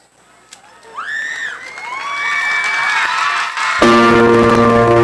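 A large crowd at a tourism roadshow in Sibulan, Negros Oriental, cheers and shouts, building from scattered whoops into loud sustained screaming and applause, close and dense, with music entering near the end.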